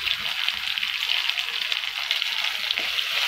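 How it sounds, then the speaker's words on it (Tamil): Curry leaves and coriander sauté in hot oil for potato kurma, a steady close sizzle and crackle with no talk. "கருவேப்பிலை கொத்தமல்லி நல்லா வதக்கிக்கணும்."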